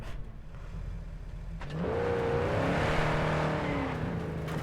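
A car engine in Cyberpunk 2077 revs up, starting as a low idle and climbing into a sustained, rising whine. It is loud and up close, with no talk over it.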